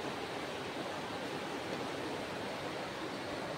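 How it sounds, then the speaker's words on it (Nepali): The Rangit river flows through the Darjeeling hills, heard as a dense, even rush of water that holds constant throughout, with no voices. "खोला हो यो चाहिँ रङ्गित खोला है"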